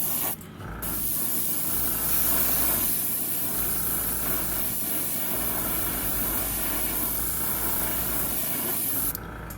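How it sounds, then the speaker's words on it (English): Airbrush hissing steadily while spraying paint onto an HO scale Walthers prairie co-op plastic model kit, one long continuous burst close by with no talking. "so I got my brush, my airbrush"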